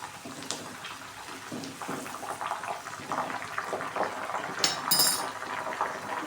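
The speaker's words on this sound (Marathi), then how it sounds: "हे मेथी दाणे टाकून चमच्याने असं हलवून." A spoon stirring fenugreek seeds in a pot, giving a steady, close rustle and scrape of seeds with light metallic clinks throughout.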